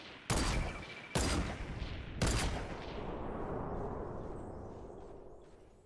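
Three sharp gunshots from the video game Fortnite crack out loud at roughly one-second intervals, each leaving a long rumbling echo that slowly fades, with no talking over them.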